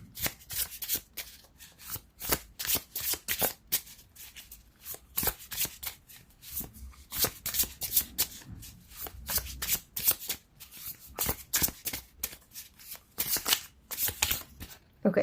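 Tarot cards are shuffled by hand in continuous rapid riffles and slides, a close, crisp papery flutter repeating in quick bursts with no break throughout.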